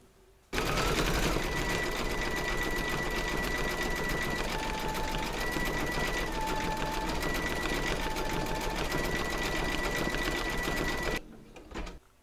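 An embroidery sewing machine runs continuously for about ten seconds, stitching satin and decorative stitches with a rapid, even mechanical chatter, then stops abruptly, leaving a few faint clicks.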